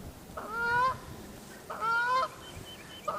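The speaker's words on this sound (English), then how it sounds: "A couple of those Canada geese I was talking about." Canada geese beside a pond on a farm honk in two loud, close bursts of repeated nasal calls, each lasting about half a second, separated by a short pause.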